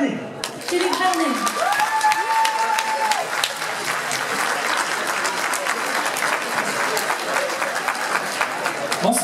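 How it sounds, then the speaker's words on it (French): Loud, sustained applause from a live concert audience in Wingles fills the hall for several seconds, steady dense clapping with cheers, after a host's voice briefly introduces the singer at the start. "Je vous demande d'applaudir"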